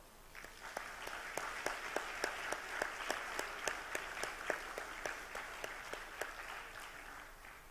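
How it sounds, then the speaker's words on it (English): Scattered, moderately faint applause from a publishing congress audience honoring a departed colleague, individual claps distinct in a steady uneven rhythm throughout. "I would like to invite you that we celebrate Julián with a round of applause."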